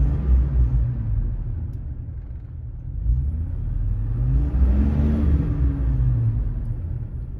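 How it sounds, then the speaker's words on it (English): A Chevrolet TrailBlazer under restoration, with a fan clutch fault, drives down the road and accelerates, a low engine rumble rising gradually with road noise inside the cabin, steady and moderately loud. "So now let's measure it going down the road. Okay, let's accelerate a little bit."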